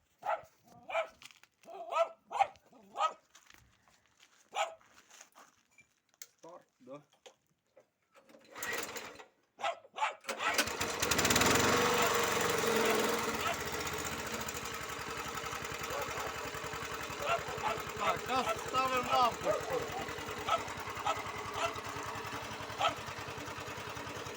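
A small generator engine starts after a stretch of quiet shuffling and clicks, then runs steadily at about 900 rpm, loud with a busy mechanical clatter, close by.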